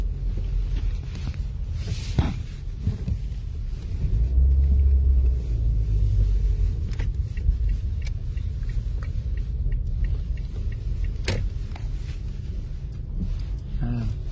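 A car interior rumbles with low engine and road noise, steady throughout, with occasional clicks and knocks and a swell of louder rumble midway.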